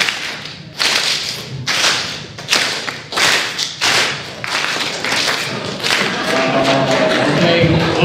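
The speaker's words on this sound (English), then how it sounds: "When I point to your section, clap just once." Audience sections at a school ceremony each clap once on cue: a series of sharp, loud group claps spaced about a second apart, echoing in a large room, followed by a rising murmur of crowd noise.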